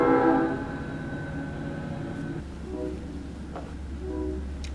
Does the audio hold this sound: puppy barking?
no